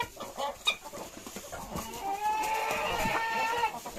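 A hen clucks and squawks in short bursts, then a longer drawn-out cackle builds, close by with other farmyard noise behind.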